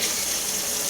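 Hot water runs steadily from a tap into a quart container for homemade laundry soap, a close, continuous broadband splash with no break.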